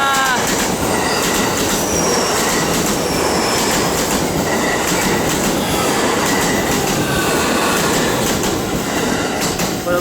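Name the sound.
train passing at a station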